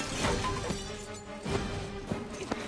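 Fighters crash through a glass door in a Buffy the Vampire Slayer fight scene: several sharp shattering cracks and crashes, fairly faint, spread across a scuffle of thuds and impacts.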